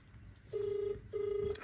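A phone ringback tone on an outgoing call, two steady, even tones about half a second each separated by a short gap, quiet but clear over faint room noise.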